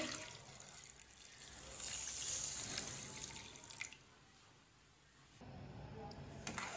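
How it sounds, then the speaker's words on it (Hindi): A glass of water splashes and pours steadily into a pot for several seconds, a continuous rushing trickle close by with faint background noise. "एक गिलास पानी डाल लेंगे।"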